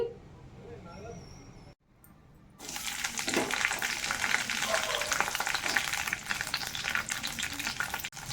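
Green chilies dropped into hot oil in a pan: after a brief quiet moment a loud, dense sizzle bursts in and continues steadily to the end, with faint kitchen noise before it.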